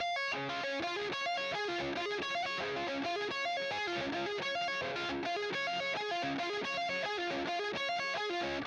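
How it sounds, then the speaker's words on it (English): A distorted electric guitar runs a rapid, flowing arpeggio, notes slurred smoothly together with hammer-ons rather than individually picked, steady and continuous. "Throwing in the legatos and the hammer-ons and that stuff goes like this."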